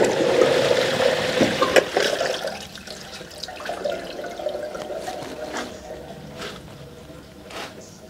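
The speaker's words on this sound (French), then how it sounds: "On va pouvoir tirer la chasse d'eau et voir si tout s'évacue bien" A toilet flush sends about six litres of water draining through PVC pipes, a rushing gurgle that starts fairly loud and tapers into trickling and dribbling with scattered clicks, no talk over it.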